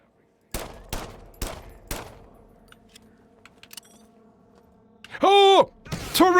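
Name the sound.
turret gunfire in video game System Shock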